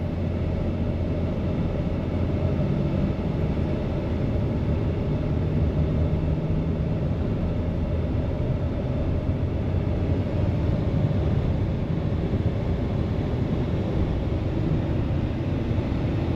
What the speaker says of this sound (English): just going to be quiet and let you hear the truck run.